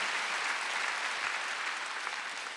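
A church congregation at a Sunday service applauds in steady, dense clapping that fills the whole moment at moderate volume with no speech over it.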